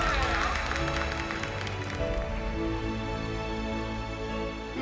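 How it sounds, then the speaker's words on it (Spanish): A studio audience at a televised singing competition gives a loud, sustained ovation, steady clapping and cheering filling the room throughout, with music underneath. "merecen toda esta gran ovación del público"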